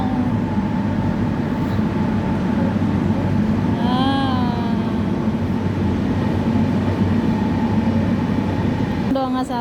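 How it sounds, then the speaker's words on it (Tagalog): A long international train rolls past a station with a loud continuous rumble and hum, a brief tonal squeal rising midway, steady and close throughout. "Haba ng train, no? International train yan."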